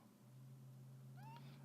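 A house cat gives a single short meow near the end, faint against a steady low electrical hum, with no talking.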